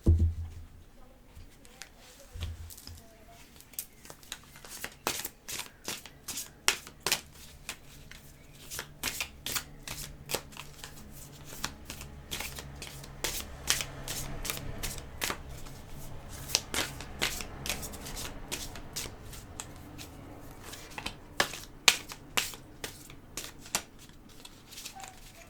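Playing cards are cut and shuffled for a tarot-style love reading, a long run of crisp riffling flutters and soft slaps repeating close up with short pauses between bursts, and no voice over them.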